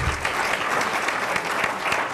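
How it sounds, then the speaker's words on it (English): A round of applause from an event audience at a Sojourner Truth tribute honoring Congresswoman Yvette Clarke, dense continuous clapping throughout, fairly loud and close. "Give Yvette Clarke a round of applause."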